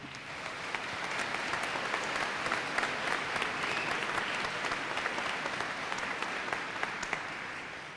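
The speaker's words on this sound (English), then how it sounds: "would you please give Jim a hand," A commencement audience of graduates and guests applauds speaker Jim, a dense, steady wash of clapping sustained for the full stretch with no voices.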